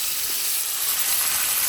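A tomahawk steak sizzles steadily in the pan, giving a constant bright hiss with no pauses and no voices.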